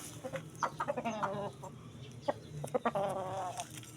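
Brown red balubad line gamecock rooster clucking and calling close by, a run of short harmonic clucks in two bursts with a brief pause between, standing alone without talk.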